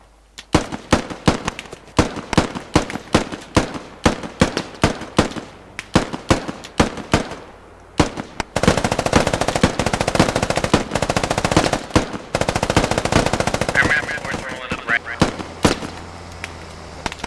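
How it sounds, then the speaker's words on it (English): Gunfire from the military shooter game Squad, first as separate sharp single shots spaced about half a second apart, then sustained automatic bursts, loud and close with a dense rattle. "Yeah, you're taking fire from the south. You're getting shot up from the south."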